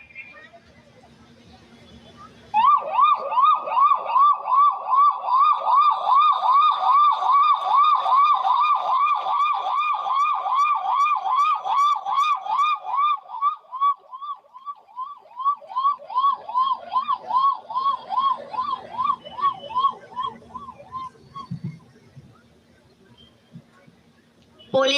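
A man mimics a police vehicle siren with his voice, a loud rising-and-falling wail repeated in rapid cycles for about twenty seconds, briefly pausing midway before resuming, with faint crowd murmur underneath.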